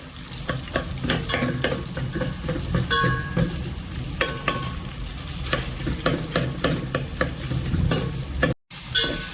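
Onions for a chicken dish sizzle steadily in a pan while a spatula scrapes and stirs in repeated rhythmic strokes, close and loud, with a brief gap near the end.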